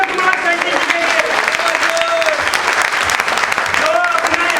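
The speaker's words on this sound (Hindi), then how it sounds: "एक बार जोरदार जबरदस्त तालियां" An audience at a sales training program claps loudly and continuously, a dense wash of applause that lasts throughout, with a voice faintly audible over it.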